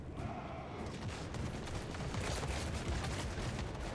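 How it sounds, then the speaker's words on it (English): Enemy troops fire guns in a battle game, a dense stream of crackling shots rolling on without pause over a busy background of noise. "a lot of those bullets seem to miss"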